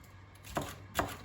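Knife chopping green peppers on a cutting board while making a stone-oven güveç stew: two distinct, fairly soft chops about half a second apart, with quiet room tone between them.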